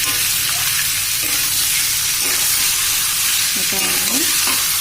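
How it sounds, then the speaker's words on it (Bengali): Chicken pieces marinated in turmeric sizzle and fry loudly in a hot wok, a steady close crackle with occasional stirring scrapes and no talk. "মাংসটা আমি আগে হলুদ মাখিয়ে রেখে দিয়েছিলাম এখন কড়াইতে দিয়ে দিলাম"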